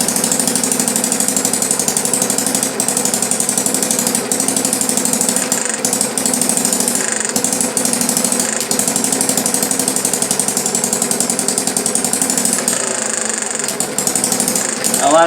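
A small Banggood hit-and-miss model engine runs under load from a hand, giving a rapid, even, mechanical chatter of fast knocking beats, close and loud, with a steady rhythm throughout.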